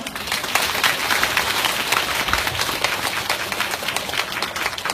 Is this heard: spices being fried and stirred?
no